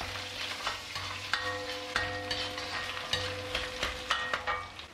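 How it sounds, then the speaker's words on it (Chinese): Sichuan peppercorns, garlic slices, ginger and dried chili pieces stir-fried in a wok give a constant sizzle punctuated by repeated sharp metallic scrapes and clinks of the spatula, close and rhythmic. "再加入一小碗的干辣椒段进去翻炒"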